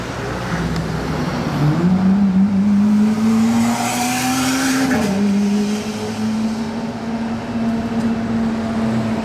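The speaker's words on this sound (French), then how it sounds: "vous avez entendu que c'était pas d'origine. Hein. Il a un échappement Gintani" A Lamborghini SVJ with an aftermarket Gintani exhaust, valves closed, drones loudly nearby in Monaco, its pitch rising steadily then dipping as it shifts, with a deep, raspy exhaust note.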